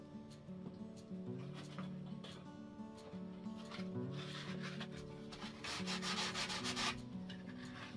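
Sandpaper rubs steadily against a small model train station part, a continuous scratchy friction lasting throughout, close and fairly loud with no talking.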